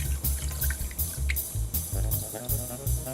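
Shrimp shell stock poured through a strainer into a pot, a steady close liquid trickle and drip running throughout with small clinks.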